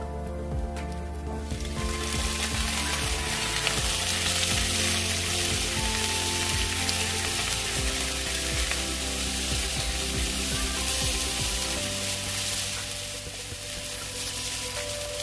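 Beef with sliced onion, garlic cloves and tomato strips sizzles loudly in a pan, a dense continuous frying hiss with crackling, close and alone without talk.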